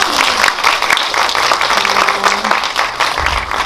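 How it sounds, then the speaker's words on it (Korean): Audience applause at a special guest-visit screening of a Korean film in a cinema hall, a steady wash of clapping from a crowd that fills the whole stretch, fairly loud and close, with a faint voice beneath it. "박수 한번 다시 부탁드릴게요"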